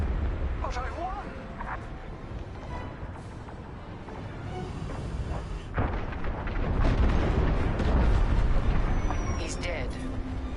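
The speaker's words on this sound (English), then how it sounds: "The frigate is about to explode." A frigate blows up in the Star Wars Squadrons space-combat game, a sustained roaring rumble of explosions that swells louder toward the end, with voices talking over it.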